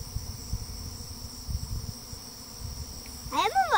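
A honeybee swarm buzzes steadily near hives, a continuous insect drone with a louder pass close by toward the end.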